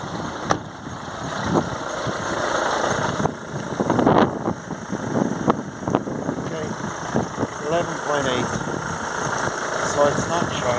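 A Mercedes E220 car engine runs at a steady idle with a low rumble, fairly close. People talk over it through much of the clip, and a few knocks and clunks are heard along the way.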